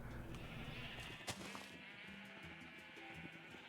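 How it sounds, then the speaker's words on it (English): A Minecraft sheep bleats once, faint and brief, amid quiet game ambience. "so I know I had a bunch of sheep over here"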